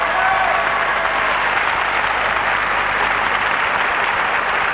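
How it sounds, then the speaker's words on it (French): A French quiz-show studio audience bursts into sustained, dense applause for a contestant from eastern Belgium, a steady wash of clapping that stays loud and even throughout with no voices over it. "Applaudissements pour Guylain."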